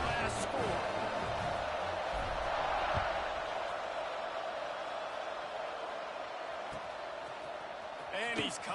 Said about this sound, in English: this crowd is buzzing